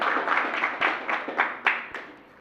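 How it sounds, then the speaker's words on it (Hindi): Audience at a Jain religious discourse applauding, a brief burst of scattered hand clapping from a crowd that fades toward the end, moderately loud with no speech over it. "एक बार बागड़ वालों के लिए जोरदार तालियां बजाइए"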